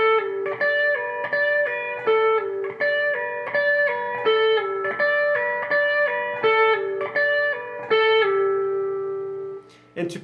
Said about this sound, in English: So part 3 played all together in slow will sound like this.